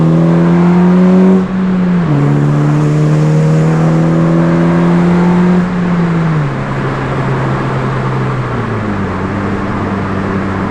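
A Honda Fit with a swapped K24 engine pulls hard through third gear into VTEC, its loud, close engine tone climbing steadily with a few brief dips as it shifts, a continuous roar with no talking.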